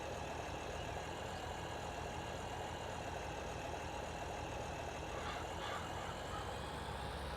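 Tractor engine laboring under load in Farming Simulator 22 while working among tree stumps on a farm; a steady, dense mechanical drone with no breaks, constant loudness and no talk over it.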